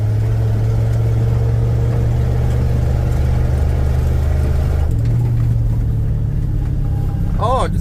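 A 1977 Ford 300 engine drones steadily from inside the moving vehicle, a low constant hum that shifts slightly in pitch partway through, with faint road noise around it.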